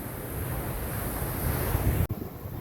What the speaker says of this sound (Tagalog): Medyo malalakas pa yung alon.